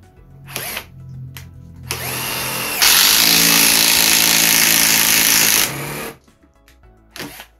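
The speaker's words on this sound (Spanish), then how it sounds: "Vamos a hacer utilizando esta broca acanalada" An impact driver fitted with a 22.2 mm (7/8 inch) spade bit bores into thin wood. Short bursts lead into a loud, steady, high whine of about three seconds, then it spins down and a few brief bursts follow.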